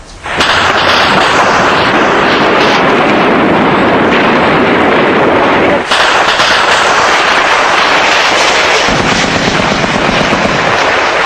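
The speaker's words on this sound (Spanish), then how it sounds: "Se había hecho muy intenso el bombardeo terrestre, había mucho disparo." Dense, relentless gunfire and ground bombardment roar without pause during the 1973 coup in Chile, a loud wall of overlapping shots and blasts that stays intense throughout.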